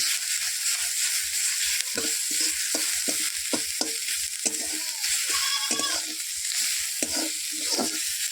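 Onion fries with salt in a pan while a spatula stirs it, giving a soft sizzle punctuated by repeated scraping and knocking strokes in an uneven rhythm, close and alone.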